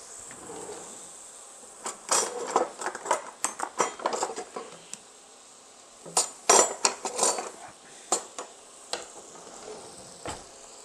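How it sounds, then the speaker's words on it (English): Butter melting in a pan for a ham macaroni and cheese roux, with faint sizzling under clinking pots, utensils and stirring scrapes in irregular bursts. "we're going to put 60 milliliters or 1/4 cup plus 2 teaspoons of butter in the pan, and we're going to let it melt"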